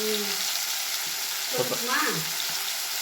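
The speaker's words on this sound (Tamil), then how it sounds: "இது அது வெங்காயம் தக்காளி குழம்புக்கு வதக்கிறேன்" Onion and tomato sauté in hot oil for mutton gravy, a steady bright sizzle running throughout with soft stirring scrapes and a faint tonal hum, fairly close and without speech.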